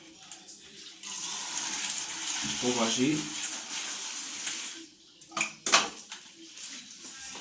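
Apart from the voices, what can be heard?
water running from a shower tap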